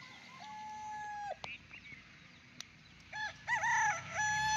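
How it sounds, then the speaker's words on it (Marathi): At dawn a rooster crows several times close by, its drawn-out calls rising and falling against an otherwise quiet, fairly faint background, with no talking. "तरी कोंबडा कुकतोय अजून"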